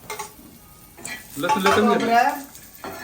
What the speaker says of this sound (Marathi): मी त्याला थोडस तेल टाकून भाजते लसणाला आणि कांदा भाजून घेतला